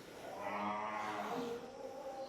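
A cow brought for Qurbani lets out one long, drawn-out moo that swells and then fades, close and fairly loud, with no talk over it.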